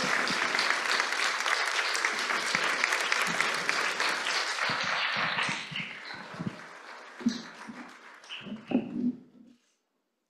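An audience at a university event on Indigenous belonging applauds loudly and steadily, then the clapping thins out into scattered claps and a few voices before stopping.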